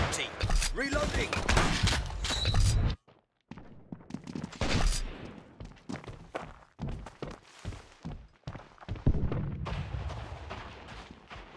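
Gunfire crackles in the World War Heroes shooter, a team deathmatch on the Normandy map with a sawed-off shotgun, as sharp booming shots and bursts hit in irregular clusters while a voice speaks in between.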